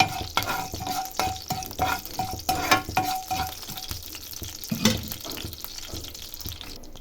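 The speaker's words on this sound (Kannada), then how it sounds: "ನೋಡಿ ಇವಾಗ ಫ್ರೈ ಆಗ್ತಿದೆ ಅದು" Chana dal and other ingredients fry in a pan, a steady close sizzle with frequent stirring scrapes and clatter throughout, no talking.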